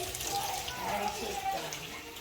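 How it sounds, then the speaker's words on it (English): Steady rush of tap water runs over hands being washed at a kitchen sink while cooking a Jamaican breakfast, close and continuous, with a faint voice murmuring underneath. "Washing my hands."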